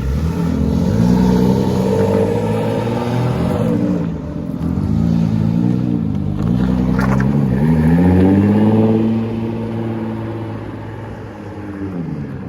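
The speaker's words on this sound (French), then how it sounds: "Ici la Nissan GT-R fait un bruit vraiment magnifique." Nissan GT-R and BMW M3 engines accelerating hard, loud close revs climbing and falling in repeated waves as gears change, the two engine notes layered over each other outdoors.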